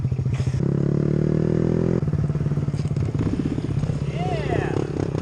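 A motorcycle doing a hard-braking stoppie on a cold-weather group ride, its engine droning loud and close throughout, with a brief high chirp partway through and voices over the rumble.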